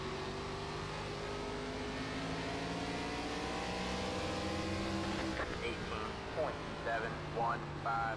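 An ARCA stock car engine in a racing simulator drones at high revs through a short-track race, pitch rising and falling with the throttle, with other cars audible nearby and someone speaking over it.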